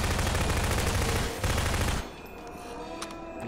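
Rapid SMG bursts in the Garry's Mod scary map, loud dense automatic firing for about two seconds, then fading to quieter game ambience.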